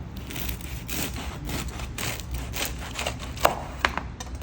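A knife saws through a loaf of homemade bread from a Cuisinart bread maker, making soft, quiet, repeated rasping strokes close by, with a couple of sharper crunches near the end.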